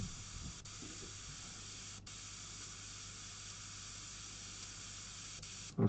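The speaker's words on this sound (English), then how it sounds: "I haven't had a blocked airbrush for ages." A blocked airbrush being cleared, giving a continuous faint steady hiss of spraying air with a couple of brief clicks, and a short louder burst at the very end.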